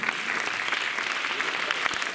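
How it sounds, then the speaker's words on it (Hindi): Audience applause for a children's group dance at a Haryana state dance competition, a dense, steady clapping that fills the whole short stretch at a constant level, with some crowd noise mixed in. "तो तालियां एक बार फिर इन बच्चों के लिए"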